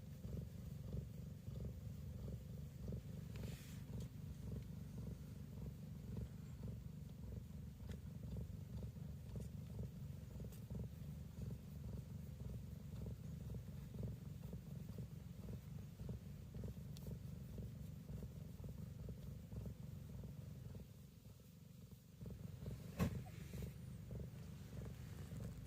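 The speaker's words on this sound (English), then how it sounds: "She's purring." Steady, low rumbling purr from a cat, continuous and close, with a soft rhythmic pulse and a brief pause near the end.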